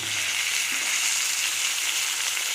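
A dense, even hiss of tomatoes, green chillies and vegetables frying in a pan, close and continuous with no voices.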